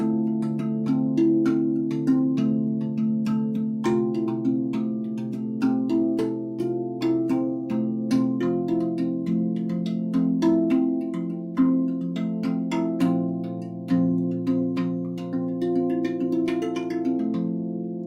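A gentle melody played on an Ariumi Rav Vast tongue drum, soft struck metallic tones with long ringing sustain that overlap into a warm, flowing line, played alone without talk.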